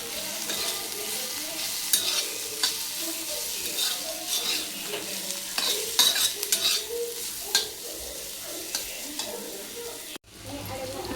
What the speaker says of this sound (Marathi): आता थोडंसं मीठ आणि पुन्हा एकदा मिक्स करून घ्यायचं.